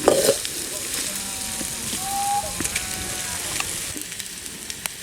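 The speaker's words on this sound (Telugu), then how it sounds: "ఆ ఉల్లిగడ్డ టమాటా పోపు మొత్తం కలిసేటట్లు బాగా ఇట్లా కలుపుకోవాలండి" Onion, tomato and tempering spices for egg fried rice are stirred together in a hot pan, giving a continuous crackling fry with scattered spatula scrapes and a brief tonal squeak in the middle.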